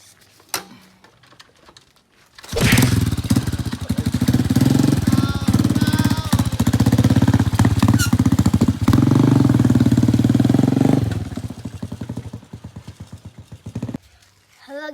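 A motorcycle engine in a village setting starts up and runs loud and close for several seconds, revving with a rough, throbbing drone before cutting back, while people talk around it.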